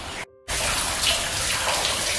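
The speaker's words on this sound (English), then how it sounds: "There's just some water running down over that rock there and down to the wee pools at the bottom down there" Water running down over a silica-coated rock into small pools inside the Punakaiki Cavern on New Zealand's West Coast, a steady close rushing trickle after a brief gap, no voices.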